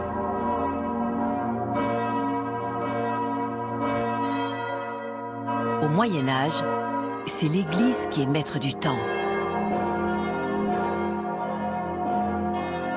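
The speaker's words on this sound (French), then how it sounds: "Lorsque les cloches vont se mettre à osciller" Church bells of Notre-Dame de Paris ring out in sustained, overlapping peals behind someone narrating, while tolls swell and fade with the swing of the bells.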